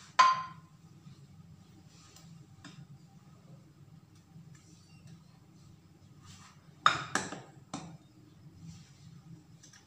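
Spoons and a dish clink sharply a few times as a mango delight dessert is set out into the dish, with long, quiet gaps between the bright knocks and scrapes.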